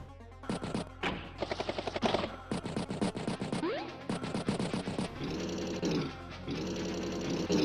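Rapid bursts of unit attack gunfire from the Advance Wars video game, played through web replay, come in several loud, clipped volleys, with electronic game music and effects sounding between the shots.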